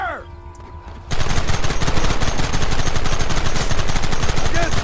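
A shootout in the Red Dead Redemption video game starts after a short quiet moment, then loud, rapid gunfire goes on without a break, with shots overlapping in a dense barrage.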